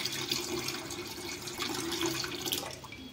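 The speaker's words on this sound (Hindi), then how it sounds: "तो हम उधर से ही इसमें पानी ऐड करेंगे पूरा।" Water pours steadily into a home aquarium being set up again after a house move, poured into a corner kept free of stones, a continuous close splashing rush with no talk.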